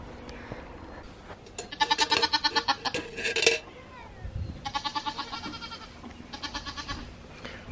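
Nigerian Dwarf goats give several loud bursts of rapid, quavering bleats, one stretch after another, close by in a farm pen with quieter background noise between the calls.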